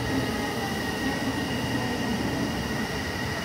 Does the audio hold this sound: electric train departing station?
yes